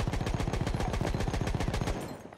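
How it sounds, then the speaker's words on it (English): Rapid automatic gunfire from the World War I shooter Battlefield 1, a steady stream of shots filling nearly the whole moment before tapering off at the end. "I see somebody shooting from the ground."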